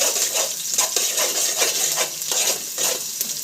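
Onion fries in hot oil in a pot: a bright, steady sizzle with bursts of hissing spatter and a few soft scrapes of stirring, close and fairly loud, with no one speaking.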